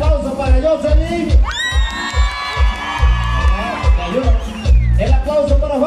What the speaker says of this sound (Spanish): el aplauso para Jocelyn